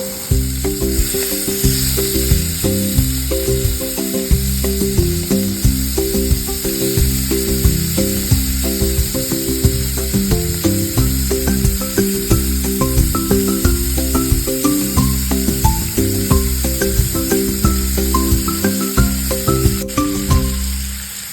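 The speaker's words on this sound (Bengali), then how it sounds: "তারপর কড়ার মধ্যে অল্প সর্ষের তেল দিয়ে তেলটা গরম হলে মাছগুলো দিয়ে আমি হালকা নাড়াচাড়া করে একটু ভেজে নেব" Prawns frying in a little hot mustard oil in a kadai, a loud, continuous close-up sizzle that lasts the whole time over steady background music.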